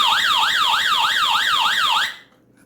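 SUNGLIFE emergency crank radio sounding its SOS alarm: a loud, rapidly sweeping electronic siren rising and falling in steady cycles for about two seconds, then cutting off abruptly to near silence.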